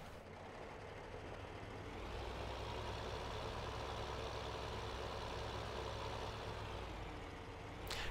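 Tractor engine in Farming Simulator 15 drags a cultivator across a field, a steady, loud, continuous drone that swells slightly after the first couple of seconds and holds without pauses or talk.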